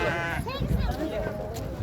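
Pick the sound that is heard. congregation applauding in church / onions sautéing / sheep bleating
sheep bleating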